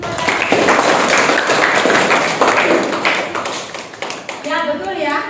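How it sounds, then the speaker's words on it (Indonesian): Classroom applause from students after a pupil finishes answering in a lesson on social problems of globalisation: dense, steady clapping from a group, loud and close for several seconds, thinning out toward the end as a voice begins speaking. "Tepuk tangan dulu."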